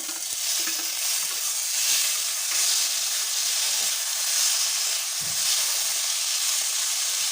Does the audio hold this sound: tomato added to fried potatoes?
yes